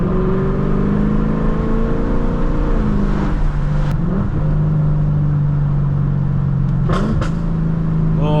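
A Lexus car's engine drones loudly from inside the cabin with its pitch stepping up and down through gear changes, broken by a couple of sharp exhaust pops on the downshifts.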